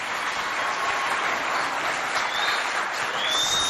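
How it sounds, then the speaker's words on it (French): A school event crowd claps loudly and continuously throughout, a dense, bright roar of hands with scattered whoops and whistles riding above it. "Applaudissez bien fort pour vous."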